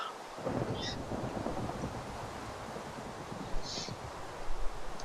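Steady rain hiss and rumbling weather in Minecraft (Feed The Beast modpack), a continuous wash of rain noise with low rolling rumble throughout and a couple of brief brighter accents.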